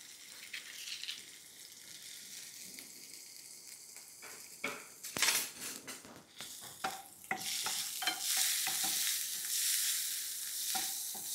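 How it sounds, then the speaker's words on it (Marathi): Spice paste made without onion or garlic sautés in two to three spoons of oil in a pan, a steady close sizzle broken by bursts of stirring and scraping, with no voices. "अर्धवट परतवल्यानंतर, खूप जास्त याला असा परतवायचा नाही जास्त."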